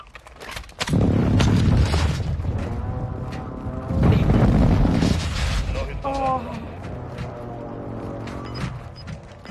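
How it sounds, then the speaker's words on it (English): Airstrike explosions in Call of Duty Warzone 2.0 land as heavy, rumbling booms in two loud bursts, followed by lingering rumble and mechanical game noise while players talk. "Strike inbound"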